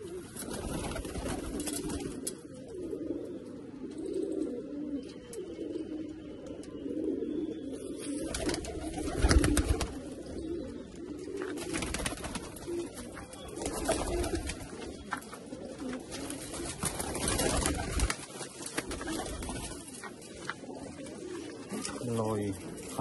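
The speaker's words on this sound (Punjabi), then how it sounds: "ਸਭ ਮਲਵਈ ਆ ਜੀ ਸਾਰੇ ਮਲਵਈ ਕਬੂਤਰ" Malwai pigeons coo in a soft, repeated rumbling chorus close by, with someone talking over them throughout.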